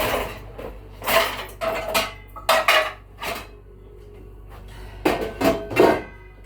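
Dishes, pots and egg pans clatter and clink in bursts as a dishwasher is emptied by hand, close and loud, with quiet gaps between each handful.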